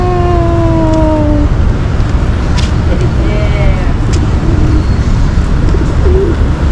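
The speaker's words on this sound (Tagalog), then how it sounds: "Kalapati." Pigeons cooing in a flock around a Padre Pio church in the Philippines, soft repeated coos under steady loud outdoor noise with passing traffic and a voice nearby.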